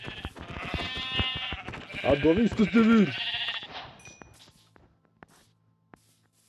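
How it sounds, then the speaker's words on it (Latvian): A sheep in the video game Minecraft bleats once in a wavering, drawn-out call, close and clear. A person talks just before and over it, and the sound fades to near silence afterward. "Mana jaunā recepte no aitas, lūdzu, atdod savu vilnu."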